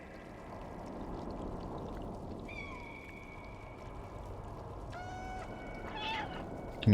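Soft cat meows from the Stray video game on PS5 rise faintly over a steady watery, rushing ambient bed, with a few thin calls near the end before a brief louder bump.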